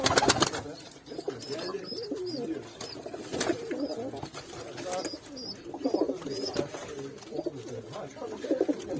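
Pigeons coo softly and repeatedly in the background amid a noisy, busy outdoor space at a pigeon coop, with occasional sharp clatters and muffled faint voices.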